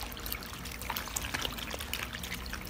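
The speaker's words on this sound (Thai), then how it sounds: "ตีน้ำยาให้เข้ากับน้ำเสร็จแล้วเราก็จะแช่อย่างนี้ไว้นะคะ" Water being stirred by hand with colour-safe laundry detergent and bleach, making a soft continuous trickling and sloshing of liquid, close and fairly quiet, with no voices.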